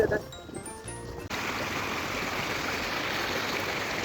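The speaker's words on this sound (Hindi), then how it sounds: "ब्रिज के ऊपर से पानी जा रहा है" Canal water pours over a bridge on a solo trip near a waterfall in Odisha, a steady broadband rush that starts abruptly and stays loud and constant, close to the microphone.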